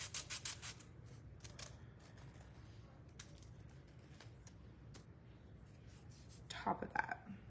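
Sanding a small craft button gives soft, close rubbing and scratching strokes, with quiet murmured talk and a louder rustle near the end.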